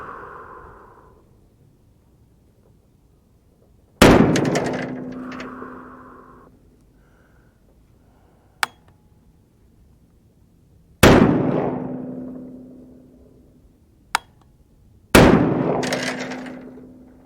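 Three sharp, loud 350 Legend rifle shots spaced several seconds apart, each followed by a ringing decay, with two faint distant metallic pings from the upper right target in between; no speech.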